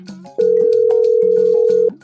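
A telephone dial tone plays as one loud, steady, unbroken tone for about one and a half seconds, with a faint background bed around it.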